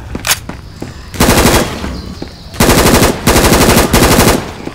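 HK416 assault rifle firing in Left 4 Dead 2, heard as several loud, close bursts of rapid automatic fire with short pauses between them.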